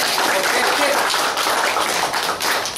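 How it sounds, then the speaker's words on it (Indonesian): A small group claps briefly and steadily, a dense patter of hand claps lasting a few seconds. "tepuk tangan bagi Pak Bima."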